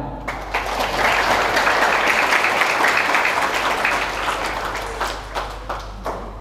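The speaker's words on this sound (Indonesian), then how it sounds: "Tepuk tangan." Sustained audience applause at an Islamic business gathering during a Ramadan fast-breaking event at Amanah Borneo Park, dense steady clapping filling the whole stretch before thinning into scattered claps at the end.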